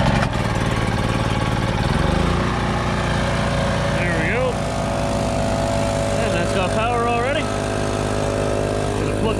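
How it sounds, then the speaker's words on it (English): A portable generator engine drones steadily and loudly, running at a constant pitch throughout, with a voice briefly audible over the running engine. "This generator running."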